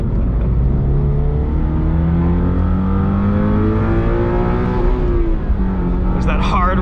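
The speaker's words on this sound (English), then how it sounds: "There's that hard rev limiter." Inside a 2022 Subaru BRZ on a race track, the engine note climbs steadily in pitch under heavy tire roar, reaching the hard rev limiter before dropping, and a voice speaks briefly near the end.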